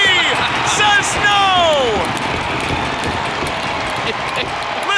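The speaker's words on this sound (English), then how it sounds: "Listen to this crowd here" A loud hockey arena crowd in overtime of a junior game between the Chiefs and Winterhawks roars steadily, with skate and whistle-like squeals early on, and a commentator talks over it.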